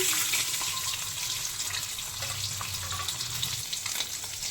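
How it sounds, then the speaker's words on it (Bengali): Eggs coated in salt and turmeric fry in hot mustard oil, producing a loud, continuous hissing sizzle that holds steady throughout with no speech. "এবার ডিমগুলোকে ভালো করে ভেজে নেবো কি ছরছর আওয়াজ হচ্ছে"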